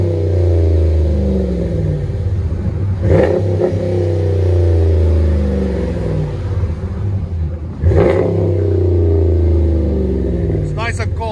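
A 2017 RAM 1500 with a 5.7L HEMI V8 and Flowmaster 40 Series dual exhaust revs on a cold day, its deep rumbling idle rising in two strong throttle blips. The truck is close and loud.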